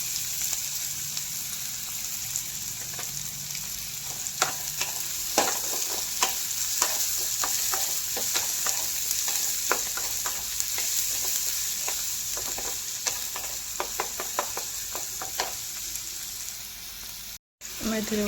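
Onions frying in a pan until golden, a steady close sizzle with scattered stirring scrapes and clicks running throughout, a brief cut near the end.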